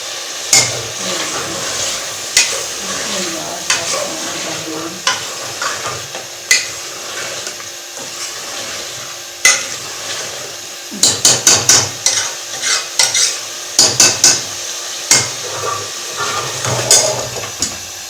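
Salan curry roasts in a handi pot with lemon and dry coriander: a steady low sizzle broken by sharp metal clanks of a spoon against the pot, with bursts of rapid clattering stirring.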